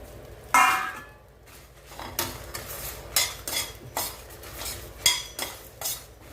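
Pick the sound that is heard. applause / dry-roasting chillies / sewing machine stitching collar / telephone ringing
dry-roasting chillies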